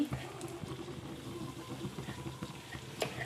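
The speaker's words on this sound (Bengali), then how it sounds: "তেলের মধ্যে ছেড়ে দিচ্ছি তেলটা বেশি গরম হলে হবে না পুড়ে যাবে এগুলো আমি ভেজে নিচ্ছি" Chops of flattened rice (chire) frying in hot oil: a dense, bubbling sizzle with scattered crackles and pops, close by and steady throughout.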